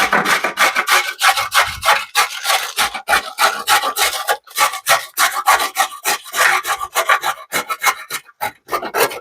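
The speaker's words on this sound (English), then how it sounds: "now it's time to start grating up the carrots." Raw carrots are grated by hand, giving a rapid run of rough rasping strokes in a steady rhythm with brief pauses, close and crisp, with no talk over it.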